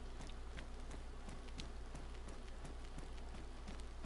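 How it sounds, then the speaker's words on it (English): Rain falling in a video game, a steady hiss of drops on surfaces with irregular soft taps and patters throughout, evenly loud and unbroken. "Sounds like it's starting to rain."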